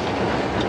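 Kiev-Moscow overnight train running, a loud, continuous rumble of rolling carriages heard from close by, steady throughout the brief moment with no talk.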